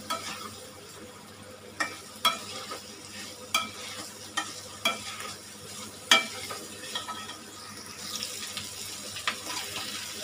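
A spoon scrapes and knocks against a pan in repeated strokes, roughly every second, over a soft background sizzle; nearby and moderately quiet.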